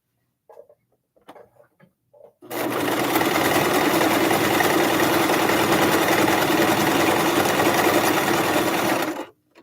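A sewing machine runs a steady straight stitch on a tufted pillow, a loud, even mechanical whirr lasting about seven seconds after a few faint handling taps, then stopping abruptly.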